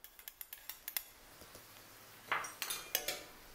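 Rice noodles tossed with pad thai sauce in a pot, with sharp metallic clinks of a utensil against the rim, first in a quick regular series and then in louder, scraping strokes.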